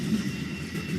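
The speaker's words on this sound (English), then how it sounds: "Here comes the train. Here comes the Amtrak." Amtrak passenger train rumbles past with a close, steady low roar that stays loud through the whole moment.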